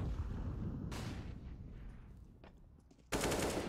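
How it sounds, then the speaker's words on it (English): Gunfire in the video game CS:GO, including an AWP sniper rifle: loud sharp blasts at about one second and just past three seconds, each followed by a decaying tail over a steady rumble of game noise. "s1mple's here with the AWP shot"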